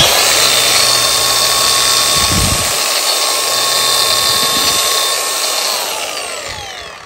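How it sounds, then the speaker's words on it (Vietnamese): Brushless 18V Makita hand-held angle grinder with a 125 mm disc and top slide switch, running at a loud, steady high-pitched whine that dips briefly as it is switched off and on, then winds down. "đây là cây máy mài máy cắt cầm tay, sử dụng cốt đá 125, cò trượt phía bên trên."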